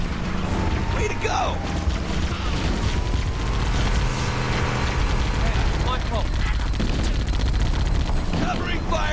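Dense gunfire and explosions fill a battle scene in the Halo: Combat Evolved video game, a continuous loud barrage of shots and booms with shouted voices over the top.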